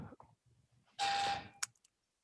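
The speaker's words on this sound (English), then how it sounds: "Yes, we have the beep." A single electronic beep signal during a planning commission meeting, a short clear tone lasting about a third of a second amid faint low background noise and brief clicks.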